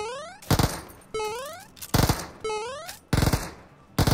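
A shooter video game's gunfire arrives as several sharp, loud shots and short bursts, each cluster preceded by rising whistling game effects, spaced unevenly over a few seconds.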